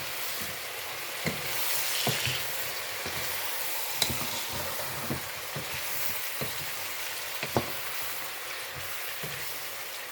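Chicken and rice frying in a pot with soumbara, stirred so a steady sizzle runs throughout, broken by a few sharp scrapes and knocks of the spoon against the pot.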